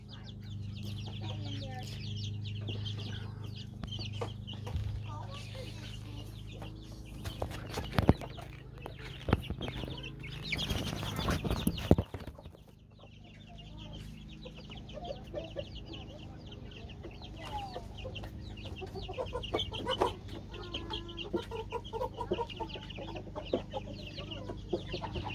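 Chickens cluck repeatedly in a busy outdoor yard, with a young rooster's voice among them and a louder burst of flapping and squawking midway.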